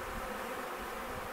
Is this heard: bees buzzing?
yes